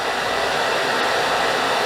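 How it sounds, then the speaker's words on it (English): A blow dryer runs steadily at close range while drying an A-line haircut, its even, loud whoosh filling the whole stretch without any voices. "put my blow dryer underneath it, bring it to the center"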